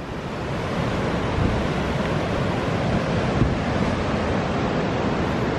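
Ocean surf rolls in at a beach as a dense, continuous wash of breaking waves, loud and steady, with wind buffeting the microphone and no talking.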